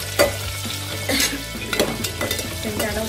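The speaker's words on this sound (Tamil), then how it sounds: "வந்து வெங்காயம் வதங்கிடுச்சு" Onions sizzle and fry in a pan for brinjal kuzhambu, with a steady crackle broken by several scrapes and clinks of a spoon stirring against the metal, close and without speech.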